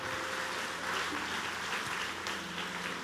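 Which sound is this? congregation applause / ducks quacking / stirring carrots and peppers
congregation applause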